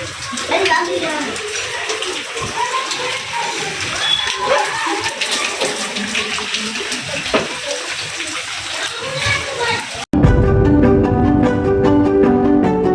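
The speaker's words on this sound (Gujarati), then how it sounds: "હજી વરસાદ હજી ચાલુ જ છે" Heavy rain hissing and floodwater rushing nearby over a waterlogged farm and road, a loud steady wash of sound with a voice speaking over it; the rain cuts off abruptly near the end and music follows.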